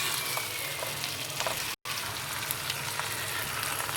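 Onions frying in oil for chicken biryani, a dense continuous crackling sizzle close up, cut by a brief silent gap partway through.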